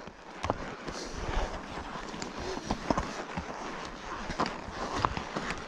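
Tired pack horses plod over rough rocky backcountry ground, their hooves striking stone in an uneven series of close knocks and scrapes, with wind and faint ambient noise underneath.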